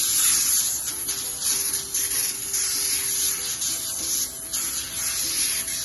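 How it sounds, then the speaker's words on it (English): Non-stick cooking spray is misted onto a baking pan before cauliflower bites are laid out: a close, steady series of sharp hissing bursts with brief breaks between them and no talking. "you want to lightly spray it with non-stick spray"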